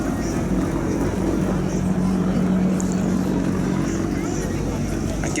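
An Apache helicopter flying at an Armed Forces Day air display gives a steady, loud rotor and engine drone, and a commentator speaks over it.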